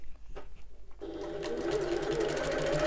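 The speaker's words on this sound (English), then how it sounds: "On the right side, I'm going to sew along each long folded edge." A sewing machine stitches along the long folded edges of a small hobo bag with a slightly lengthened stitch, starting after a quiet second and then running steadily and closely to the end.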